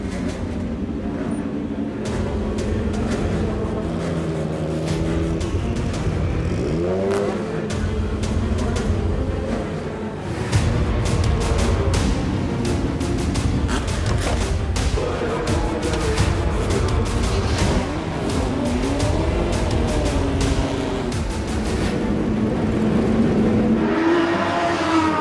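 A rare Toyota Group C race car at the Spa-Classic 2017 in Spa runs its engine loud and close, a continuous roar that swells and dips with revving. Other racing engines may blend in.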